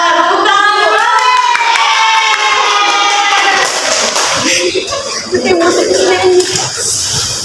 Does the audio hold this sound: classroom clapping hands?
yes